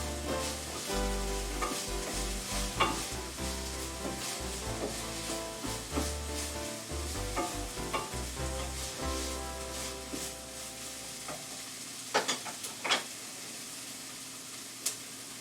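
Onions frying in a pan for a Moroccan-style beef with apricots dish, with a steady sizzle under repeated scraping stirs and occasional clicks of the utensil, close and continuous.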